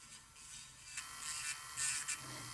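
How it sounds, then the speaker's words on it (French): A small electric cuticle machine works on a fingernail during a gel nail manicure, giving a faint, high buzzing whir with brief louder grinding touches. "avant de peindre l'ongle, je repasse ici avec ma petite machine à cuticule."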